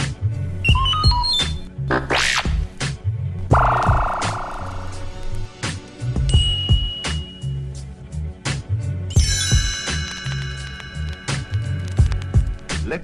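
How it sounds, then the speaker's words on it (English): A bright computer chime rings out over looping background music with a bouncy bass line, alongside other short electronic beeps and tones. "You will know it is time to turn the page when you hear the computer sound like this."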